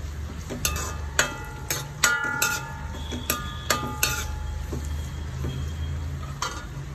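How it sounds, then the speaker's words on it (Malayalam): Long-sliced onions fry in a pan for a beef fry, a low sizzle running beneath repeated close metallic scrapes and clinks of a spoon against the pan in an uneven rhythm. "ഉള്ളി നീളത്തിൽ അരിഞ്ഞു വെച്ചത് ഇട്ട് കൊടുക്കാം. നന്നായിട്ടൊന്ന് വാടണം."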